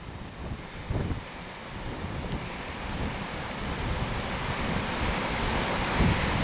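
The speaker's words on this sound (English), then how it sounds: "You've got the river on your left." The River Swale rushes past stepping stones on a Yorkshire Dales country walk near Reeth, a steady broad roar of flowing water mixed with gusty wind buffeting the microphone, continuous and fairly close.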